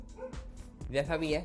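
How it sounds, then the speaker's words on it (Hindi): Dogs bark and yip in the background of a home recording, a few short barks partly masked by a person talking close to the microphone throughout. "कुत्तों की आवाज़ आ रही होगी, उन्हें इग्नोर करना है।"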